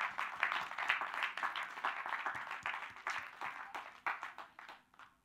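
Church congregation applauding together, a steady patter of many hands clapping that rises and fades over several seconds, moderately near with no talk.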